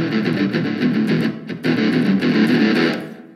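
A driven electric guitar plays a fast, choppy palm-muted riff, tight muted notes, steady and close, fading out at the end.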